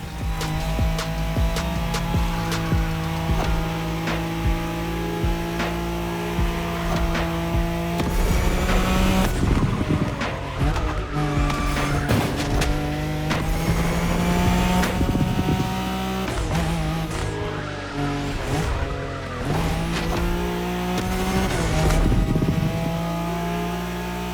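A Nissan Skyline races down the Wangan expressway in The Crew Motorfest, its engine droning loud and continuous with rising and falling revs and gear shifts, heard alone throughout.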